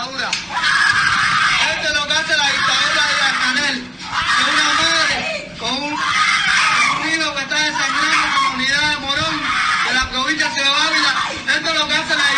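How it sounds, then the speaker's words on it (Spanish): At a police station, a mother screams in terror over her bleeding son: loud, wavering, sustained wails and cries that rise and fall with brief breaks, close and harsh. "voy a poner el sonido para que escuchemos los gritos de terror de esta mujer"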